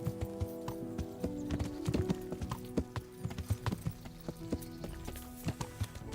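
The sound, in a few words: horse hooves while riding in a video game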